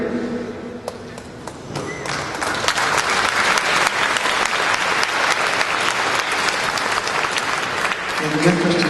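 An audience claps at a San Diego Air and Space Museum volunteer night. The applause builds from scattered claps into sustained loud clapping and continues to the end, with some voices mixed in.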